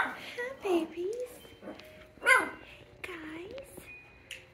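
Dogs just waking in the morning yip, whine and bark in short, uneven bursts close by, with high whimpering cries between them while a person talks over them.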